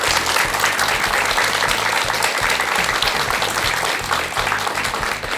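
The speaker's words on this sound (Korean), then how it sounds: "큰 박수 한번 부탁드리겠습니다." A studio audience gives sustained applause after a Buddhist monk's talk: many hands clapping in a thick, even wash that stays loud throughout and eases slightly near the end.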